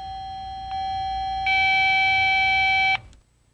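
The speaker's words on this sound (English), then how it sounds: "press and hold the volume button until you hear the level you want" Electronic tones from a Motorola DynaTAC cellular phone as its earpiece volume is adjusted: a steady beep that steps up to a louder, brighter tone, holds for a couple of seconds, then cuts off abruptly into near silence.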